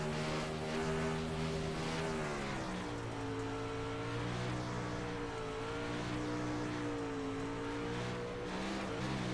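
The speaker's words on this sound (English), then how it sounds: "Listen to the throttle." A winged sprint car engine roars from onboard, its throttle rising and falling through a lap with a dip in pitch, loud and continuous.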